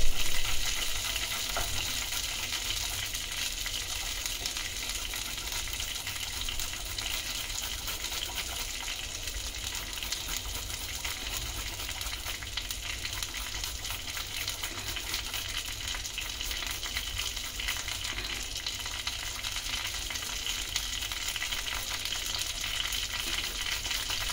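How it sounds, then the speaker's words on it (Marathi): Peas and ginger frying in a pan for methi matar kabab give a continuous, even sizzle with soft stirring scrapes, close and steady throughout with no voices. "हे मटार त्याच्यात घालायचं आलं,"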